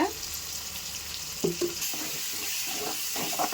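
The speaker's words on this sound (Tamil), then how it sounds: "தயிர் போட்டு நல்லா வதக்கிட்டு பாருங்க எப்படி இருக்கு" Tomatoes and curd sauté in a pan for prawn semiya, a steady sizzle with a few sharp stirring scrapes and clinks of a spoon against the pan, up close and without speech.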